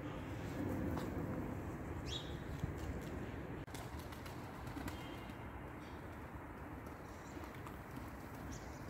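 Pigeons at a game bird loft fill the air with steady soft cooing and fluttering over a dense background murmur, with a few brief sharper calls and one faint click, and no voices.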